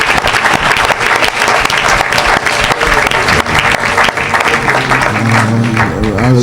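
A church congregation at a worship service applauds loudly and continuously, a dense wash of clapping with crowd noise, and low held notes enter near the end.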